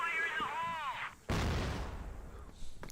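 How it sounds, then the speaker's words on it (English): A grenade explodes in a competitive video game match, starting as a sudden loud blast after a whistling tone and settling into a rumbling decay, with a caster's voice audible in the mix. "Snox will get the nade off. Does a little bit of damage"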